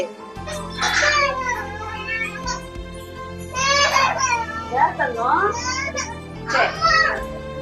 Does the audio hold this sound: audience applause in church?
no